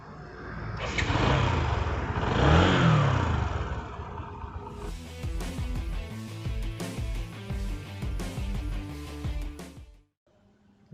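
A Bajaj Discover 125 motorcycle engine is started with the self starter and revved, giving a loud, rough roar for several seconds before other sounds take over.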